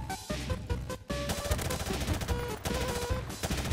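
Rapid automatic gunfire fills a Modern Warfare video game match, dense and continuous bursts layered over game music and effects, loud and close with no talk.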